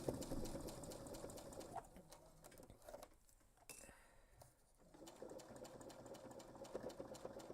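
A sewing machine stitches backpack fabric with a steady rapid needle patter, pausing briefly midway before resuming the close, even clatter.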